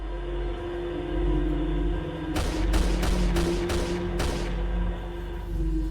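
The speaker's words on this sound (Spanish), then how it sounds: "No mucho después se oyen los primeros 6 disparos efectuados," Six gunshots fired one after another, loud sharp cracks in a quick irregular sequence over a constant low hum and background noise.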